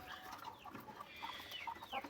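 Black hens kept in a coop in Andijan cluck softly in a quick scatter of faint, overlapping calls, with no voices over them.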